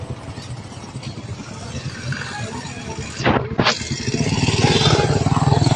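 Motorcycle engine revs at a parking area beside a church, with clattering and a sharp swooping pass midway, then a steady louder rumble. Loud and close, with faint outdoor voices behind.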